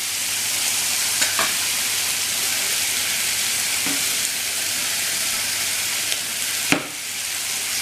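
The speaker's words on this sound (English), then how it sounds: "Starting to get some frying going on." Mushrooms sizzling in a pan for creamy pasta, a dense, continuous frying hiss with a few sharp scrapes and clicks of a utensil against the pan, close and steady.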